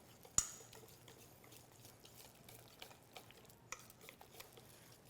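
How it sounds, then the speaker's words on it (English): A whisk stirs grated Parmesan cheese in a bowl, giving soft, quick scraping taps with a sharper clink near the start and faint background sizzle. Quiet and close, with no talking. "I'm going to whisk that up"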